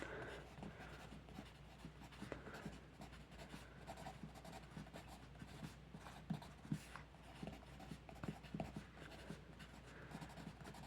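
Pen writing on a puzzle advent calendar, soft continuous scratching strokes close by with small taps, faint and steady against a quiet room background.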